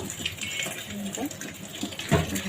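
Ripe red tomatoes are washed under a running tap, with steady water flow and splashing, plus occasional knocks and a louder splash near the end, close by.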